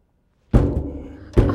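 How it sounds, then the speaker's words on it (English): An air cannon, or air vortex generator, fires puffs of air, heard as a loud close thump after a silent start, a trailing whoosh, then a second thump. "the niftiest thing about the air cannon is there's a better name for it. It is actually an air vortex generator."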